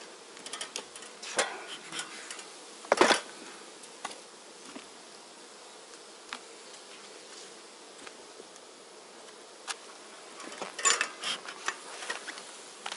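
Honey bees buzz softly around a close microphone at a hive being treated with formic acid, with scattered louder passes and clicks over a faint, continuous hum.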